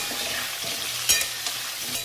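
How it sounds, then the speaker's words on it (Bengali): Potatoes frying in oil with salt and turmeric give a steady, close hiss of sizzling, with a few brief scrapes of stirring breaking through. "এবার আলুগুলোকে একটু লাল করে ভেজে নেব।"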